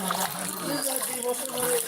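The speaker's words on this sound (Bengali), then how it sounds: "এই যে নৌকা নিয়ে গিয়ে যেতেছে" A boat moves through waist-deep floodwater over a road in Noakhali, with faint water swishing and splashing under a murmur of voices.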